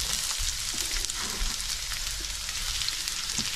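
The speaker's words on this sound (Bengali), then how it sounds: "সো এখন অনিয়নটা আমি দিয়ে দিব।" Chopped onion dropped into hot oil, giving a dense, continuous frying sizzle up close with a few soft stirring knocks, and no voices.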